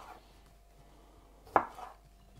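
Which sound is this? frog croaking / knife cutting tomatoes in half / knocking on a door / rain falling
knife cutting tomatoes in half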